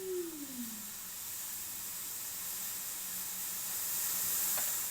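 Tea boils in a pot with a steady, faint hiss and simmer that holds evenly throughout, with no talking over it.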